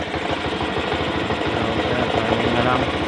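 Kawasaki Rouser 180cc motorcycle engine idling after a starter problem, a steady throbbing chug close by under someone talking.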